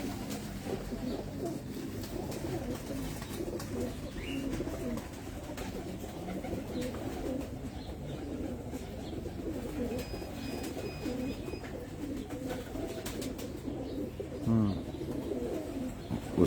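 Old Sialkoti pigeons coo softly and steadily on a rooftop loft, a low murmuring chorus running throughout with faint chirps and background noise mixed in.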